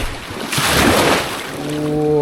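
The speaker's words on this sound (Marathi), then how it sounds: "एक लाट येईल आता" An ocean wave breaks and washes in on the beach at Malvan, a broad wind-buffeted rush that swells and fades, with a voice coming in briefly near the end.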